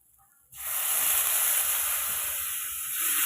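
Water poured onto onions and spices frying in a pan for potol korma sets off a sudden loud hiss after a quiet moment, then a steady, strong steaming sizzle continues to the end.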